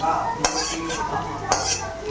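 A metal spatula scrapes and clinks in a frying pan as fried potatoes are lifted out, with two sharp clanks over a soft sizzle of hot oil, close and moderately loud.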